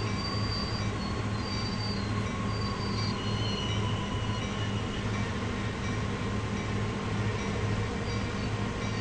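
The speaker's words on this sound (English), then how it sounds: "a healthy train should not sound like this" A freight train's engine in Train Sim World 2 drones loudly and continuously with a harsh, unhealthy-sounding hum and faint whining overtones, steady for the whole stretch with no talking.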